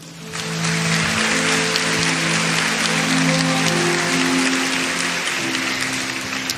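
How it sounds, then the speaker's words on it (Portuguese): Church congregation applauding during a Portuguese-language sermon, a full, steady burst of clapping that swells quickly and holds loud over a sustained organ or keyboard chord before tapering slightly. "Dá um aplauso a Jesus"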